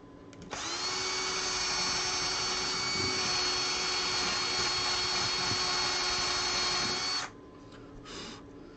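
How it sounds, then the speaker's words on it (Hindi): Electric drill boring a hole in a homemade hydraulic JCB model, a loud steady high-pitched whine running several seconds close up, then cutting off sharply. "हमारे पास ड्रिल मशीन तगड़ी है"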